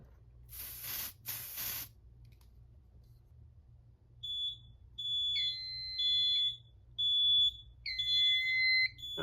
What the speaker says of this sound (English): let's start off with the FSI A51 smoke detector